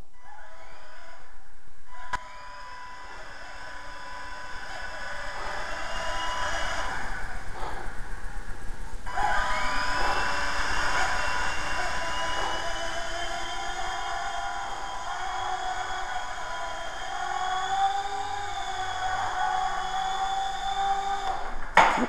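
A small T-Rex 100S RC helicopter whines through a long flight, its steady high-pitched rotor and motor tone shifting in pitch as it manoeuvres, with a brief dip near the start.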